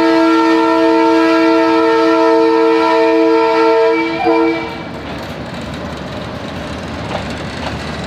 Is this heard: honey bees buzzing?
no